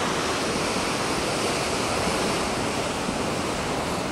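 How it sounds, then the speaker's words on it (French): Ocean waves breaking along the shore at Puerto de la Cruz, Tenerife, a continuous loud roar of surf and churning water without any pause or voices. "Et les vagues, elles arrivent à"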